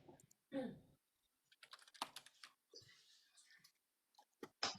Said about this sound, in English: Oh, you're typing.